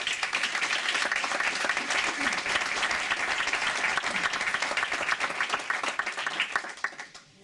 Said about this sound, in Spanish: yo quiero pedir un aplauso muy fuerte para ellos para empezar